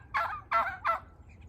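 A Bronze turkey hen gives three quick gobbling calls in succession, each a loud burst of rattling, warbling notes with short gaps between, close by and otherwise alone.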